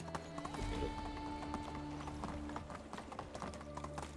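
Horse hooves clip-clopping at a steady trot in the medieval game Medieval Dynasty, close and rhythmic over a soft ambient music bed, with a brief whinny early on.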